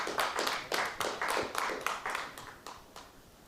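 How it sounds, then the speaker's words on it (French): Audience members at a science communication competition clap for a prize winner. The individual claps are distinct and rhythmic, and the moderately loud applause gradually fades as it goes on. "On applaudit Nathalie."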